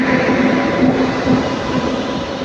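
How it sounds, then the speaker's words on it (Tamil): A passenger train bound for Mangalore Central rolls through an Indian station in a loud, steady rumble of wheels and carriages, close by, with a faint metallic ring above the noise. "கரெக்டாக ஆறு பதினஞ்சுக்கெல்லாம் வந்துருச்சுங்க மங்களூர் சென்ட்ரல் வண்டிங்க"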